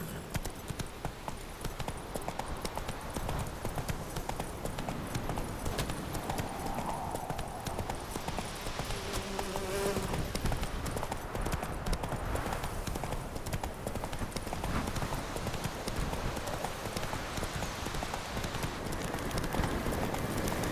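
A horse gallops in The Witcher 3, a steady rapid clip-clop of hooves running continuously under a dense ambient game soundscape, moderately loud throughout.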